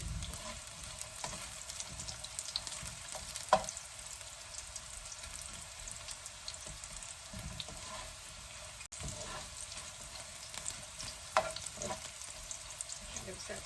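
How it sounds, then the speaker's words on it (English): Steady crackling sizzle of beef frying until almost crispy in a hot pan for Indonesian beef dendeng, with a couple of sharper pops and light stirring scrapes, no voices. "So we're frying this until the meat gets kind of like almost crispy."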